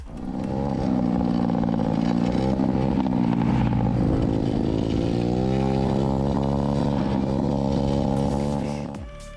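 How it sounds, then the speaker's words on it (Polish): Motorcycle engine close by at an intersection, a loud sustained drone with rising and falling revs as the bike overtakes, running steadily throughout before cutting off at the end. "Motocyklista wyprzedza nagrywającego na skrzyżowaniu."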